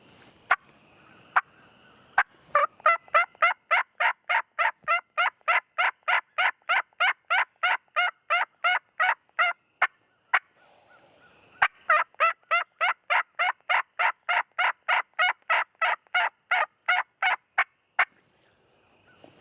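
A turkey call imitates an adult hen assembly call: a couple of sharp clucks, then two long, even runs of rhythmic yips, loud and close, with nothing else around them.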